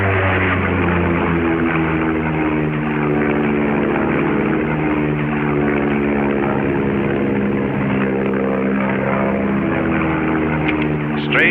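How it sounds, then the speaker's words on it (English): A World War II-era aircraft passes overhead in 1944 with a loud, continuous propeller engine drone that holds steady throughout, heavy and close. "Strange aircraft gone over."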